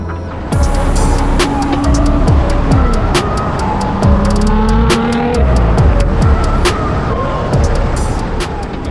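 A tuned car of over 700 horsepower with hybrid turbos, upgraded fuel pumps, an upgraded gearbox and a Miltech exhaust accelerates hard, loud and close, the engine climbing through repeated gear changes with sharp pops and crackles from the exhaust.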